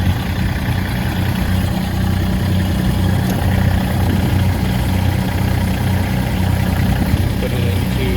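A tractor's diesel engine idles with the throttle bumped up, a loud, close, steady low rumble with a constant throb that never lets up.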